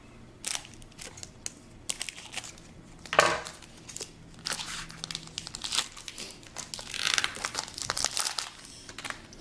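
A Pokémon XY Phantom Forces booster pack torn open and its foil wrapper crinkled, with repeated close crackling and rustling bursts and one louder rip, heard alone without talk.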